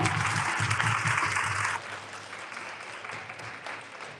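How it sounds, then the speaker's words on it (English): Audience applause at a live talk event, steady broadband clapping from a crowd that drops to a softer level partway through and carries on alone. "Give yourself a round of applause, everyone."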